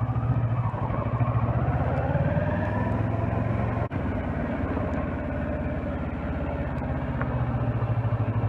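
A Kawasaki Versys 650 motorcycle engine runs at a low, steady idle-like drone during slow full-lock turning practice, close and continuous with a faint clatter and one brief dip.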